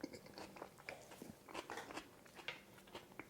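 Bean sprouts dressed in warm peanut sauce, part of an Indonesian gado gado, crunch as they are bitten and chewed: a close, quiet run of crisp snaps and moist crunches in an irregular chewing rhythm.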